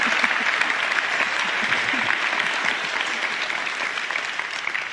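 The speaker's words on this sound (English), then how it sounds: "The applause was not for you" Dense, loud applause from a conference audience in Oslo, continuous and even, many hands clapping at once without pause.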